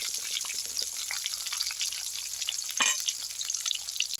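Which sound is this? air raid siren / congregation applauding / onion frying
onion frying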